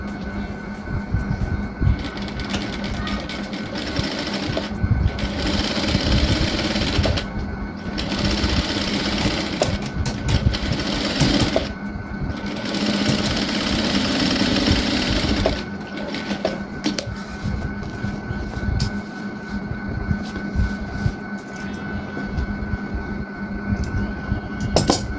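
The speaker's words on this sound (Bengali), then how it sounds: "এখানে ডাবল সেলাই দিলে সুন্দর লাগবে দেখতে, এই জন্য আরেকটা সেলাই বসিয়ে দিচ্ছি।" A sewing machine stitching a double seam on a hijab whirs in fast, steady bursts, pausing briefly several times before running on, close and loud with faint background noise.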